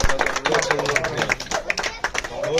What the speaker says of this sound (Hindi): और तालियां बजाओ।